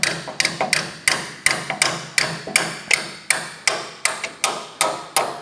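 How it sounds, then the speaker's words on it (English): Sharp metallic knocks from a 13/16 spanner working tight pipe fittings on a Massey Ferguson tractor steering valve, about a dozen close, ringing strikes at a steady rhythm, each decaying quickly, with no talking. "a 13/16 spanner fits them, and you need to undo the pipes"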